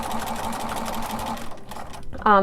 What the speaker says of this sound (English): And now you're going to stitch through all the layers, making sure you catch all of them.